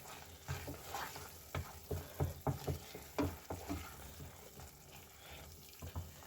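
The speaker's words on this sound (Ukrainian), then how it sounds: "Зараз помішаю, подивлюся" Mushroom caviar being stirred in a pan, soft scraping strokes and irregular knocks of the spoon over a faint sizzle, close and quiet, no talk.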